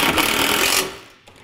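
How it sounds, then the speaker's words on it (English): A power driver whirs briefly as it drives a short roofing screw into sheet material, one loud burst lasting under a second, then stops, close up. "I'm using just one of these little short roofing screws to fasten this material on."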